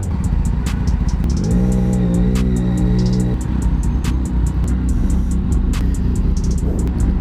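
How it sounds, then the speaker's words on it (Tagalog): Big bike engine, an NK400 or Tracer 900, runs steadily while riding, loud and continuous, with a deeper tonal rev swelling in the middle of the stretch before easing back to a constant drone. "Ganda na itong motor ni Boss Arch. Nakakatuwa gamitin talaga"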